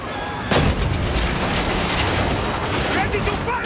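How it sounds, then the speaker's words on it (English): Catapults firing in Assassin's Creed Origins, a sharp heavy launch blast followed by a sustained roaring, rumbling wash of battle noise with a faint voice underneath. "Our catapults will fire upon your order."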